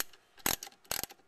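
A socket wrench tightens an alternator bolt on a Porsche Boxster, giving two short, close ratcheting bursts with quiet gaps between them.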